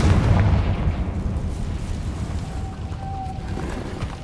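In the Hogwarts Legacy video game, a Confringo blasting curse explodes with a heavy, close boom. A rumbling decay follows under a faint sustained game tone.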